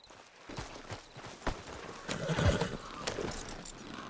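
Horse hooves clip-clopping at a walk in the Red Dead Redemption video game, soft and fairly distant, a loose steady rhythm over a low outdoor ambience.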